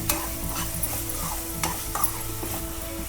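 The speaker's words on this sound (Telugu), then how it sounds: "ముందుగా ఎంచి పెట్టుకున్న పెట్టుకున్న చామగడ్డలు వేసేసుకుందాం వేసుకొని ఒకసారి కలుపుకుందాం మంచిగా" Taro pieces stirred into frying onions in a pan, with a steady sizzle under repeated scraping and stirring strokes, close and fairly loud throughout.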